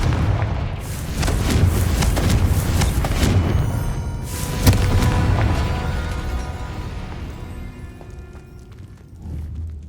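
Confringo, a fiery explosive spell cast in the Hogwarts Legacy video game, erupts in a series of loud booming blasts and crackling bursts that build and then fade into a low rumble, with another thump near the end.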